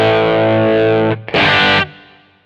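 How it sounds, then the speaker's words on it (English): Distorted electric guitar played through a bright Kemper Profiler Plexi amp profile with the gain up: a sustained chord rings loud, cuts off, then a short harsh burst of strummed noise decays away. "Sounds like the Plexi, and it's a bit bright."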